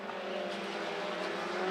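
Race cars roar around the oval at Monarch Motor Speedway during a regular race program, a loud, continuous engine drone that builds slightly toward the end as the pack presses close.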